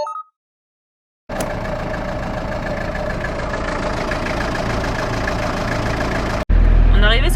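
Cars idle together at a busy supermarket fuel station, a steady low engine rumble holding for several seconds after a brief quiet start, then a louder, closer burst near the end.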